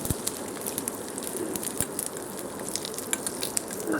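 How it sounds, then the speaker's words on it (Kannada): Cumin, mustard seeds, white sesame, curry leaves and dried red chilli pieces crackle and sizzle in a couple of spoons of hot oil, a steady dense frying hiss with scattered sharp pops, close and alone without voices. "ಒಟ್ಟಿಗೆ ಎಲ್ಲ ಹಾಕಿದ್ದೀನಿ ಜೀರಿಗೆ ಸಾಸಿವೆ ಸ್ವಲ್ಪ ಬಿಳಿ ಎಳ್ಳು ಆಮೇಲೆ ಕರಿಬೇವು ಒಂದೆರಡು ಒಣಮೆಣಸಿನ್ಕಾಯಿ ತುಂಡು"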